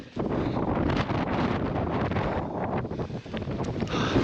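Strong wind buffets the microphone at a summit, a steady loud roar of gusts with rumbling low-end pressure and no voices, sustained for several seconds.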